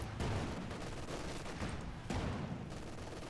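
Dense, overlapping gunfire bursts from tanks and infantry in the Company of Heroes 2 strategy game, a steady rattling barrage at moderate distance with sharper cracks near the start and middle.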